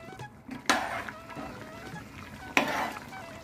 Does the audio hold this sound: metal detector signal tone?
no